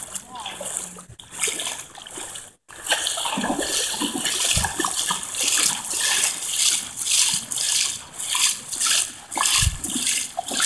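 Floodwater during a major 2016 flood splashes and sloshes loudly and continuously around a truck, with a cat nearby, while a person talks over the churning water.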